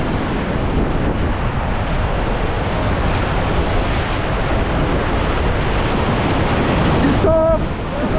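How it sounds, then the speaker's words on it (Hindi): A loud, continuous roar of white water rushes past while rafting through a rapid on the Ganges at Rishikesh, with heavy wind buffeting and faint voices buried in the noise. "रैपिड आ रहा है, रैपिड का नाम है रोलर कोस्टर"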